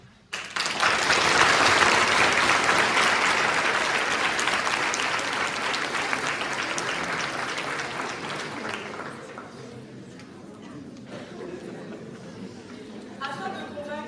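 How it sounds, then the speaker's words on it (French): Warm audience applause at a mock trial of Charles Manson, a dense sustained clapping that swells early then slowly tapers, with some crowd chatter and a voice mixed underneath. "Mesdames et messieurs, je vous demande d'applaudir chaleureusement"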